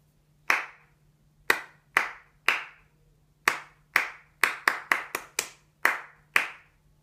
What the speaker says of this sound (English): Clap it together after 2.